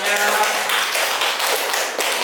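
A group claps in a classroom training session for Indonesian-language teachers, steady dense applause filling the moment, loud and close.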